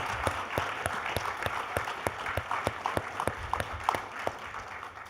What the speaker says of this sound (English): Can we give a round of applause to our final winner of